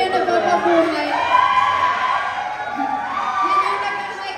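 A large crowd of fans shouts and cheers continuously at a live music performance by a girl group, a dense roar with rising whoops, steady and fairly loud throughout.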